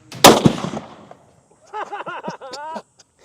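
A sharp gunshot cracks close by after a countdown, followed by a brief echoing tail; a voice then speaks in short bursts afterward.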